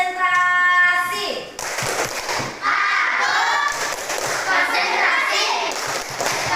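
Schoolchildren in a classroom perform a concentration clap routine, with rhythmic group clapping and chanted children's voices filling the room, loud and close, after a brief tonal sound at the start.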